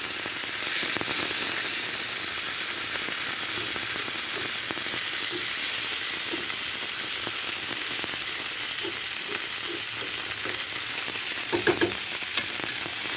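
Tilapia fish frying in hot oil gives a loud, steady, close sizzle that crackles continuously throughout, with a few sharper pops near the end and no voices.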